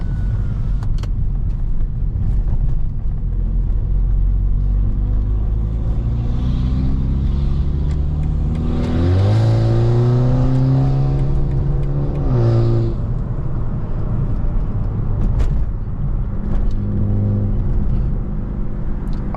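A BMW 330i tuned to about 400 horsepower drives and accelerates onto a highway in New York City, its engine rumbling steadily, then climbing in a strong rising rev around the middle before settling back into loud road noise.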